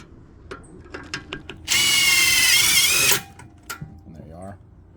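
A power drill drives screws into a deck rail clip, one loud continuous burst of about a second and a half, set between a few clicks and handling knocks, with a voice before and after.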